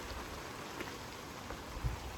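Steady outdoor rain with large, cold drops pattering on a coat in strong wind, a dense continuous hiss with a few louder close drop impacts.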